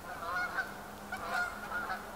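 Wild geese honk repeatedly as a flock flies low overhead outdoors in the bush, their calls coming in several close bursts over a steady faint background.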